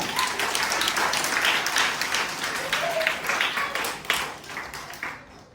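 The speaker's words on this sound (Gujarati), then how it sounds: "તાળી પાડવાની બધાય." A crowd at a magic show claps in rhythmic unison, the many-handed patter holding steady before tapering off and stopping near the end.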